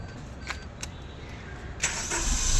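A car engine cranks and fires up near the end after a quiet stretch with a couple of faint clicks, then settles into a steady running rumble that continues to the close.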